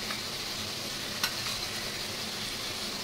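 Kashmiri chilli powder and cumin powder masala frying in a pan, a steady soft sizzle running throughout with a brief faint clink of stirring partway through.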